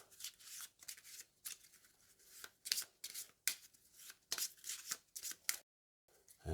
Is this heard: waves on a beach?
no